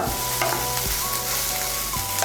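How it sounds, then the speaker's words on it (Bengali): Soybean chunks lightly frying in a kadai and being stirred, giving a steady close sizzle broken by a few distinct scraping strokes of the spoon against the pan, with no talking. "এই দেখুন সোয়াবিনটাকে আমি হালকা করে ভেজে নিয়েছি"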